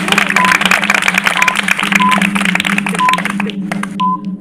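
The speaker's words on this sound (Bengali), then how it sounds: "ইয়াসিন, একটা হাতে তালি হয়ে যাক।" A round of hand clapping from a small group during a bottle-flip game for boys, steady dense claps sustained for about four seconds with lively voices and periodic beeps in the background.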